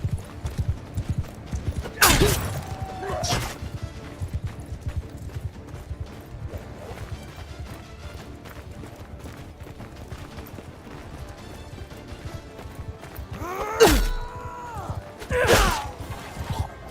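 Horse hooves and neighing in Mount & Blade II: Bannerlord battle gameplay, with scattered hoof thuds and sharp impacts over a busy background, plus a couple of louder whinnying bursts.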